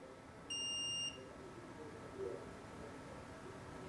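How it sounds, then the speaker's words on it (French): A single high electronic beep lasting about half a second from a Xiaomi Scooter 6 Pro electric scooter, clear and close, over a faint steady background hum. "il faut les garder appuyés jusqu'à ce qu'on entende un"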